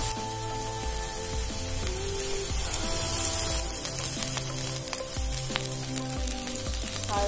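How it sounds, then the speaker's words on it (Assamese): Onions frying in a pan with ginger-garlic paste for an Assamese fish dish, a steady close sizzle and crackle running throughout, with a melodic background track playing over it. "এয়া মই পিঁয়াজখিনি ভাজি আছোঁ"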